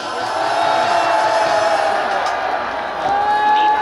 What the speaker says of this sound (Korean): 우리 젊은이를 위해서 큰 박수 한번 해주시기 바랍니다